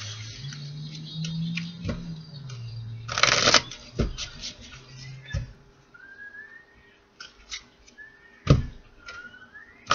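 Oracle cards from a message deck shuffled close by in several brisk riffles and taps, separated by quiet stretches with faint whistling tones and no talking.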